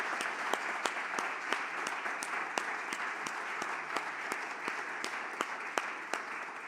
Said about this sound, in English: let me start by saying another round of applause for Stephanie